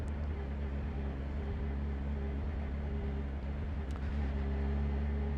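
A Kawasaki ZH2 motorcycle rolls along slowly, its engine holding a steady, low, even hum with a faint drone of wind and road noise over the top.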